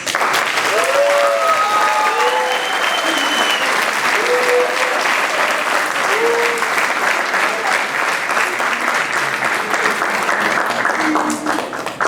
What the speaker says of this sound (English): So you owe yourselves a round of applause.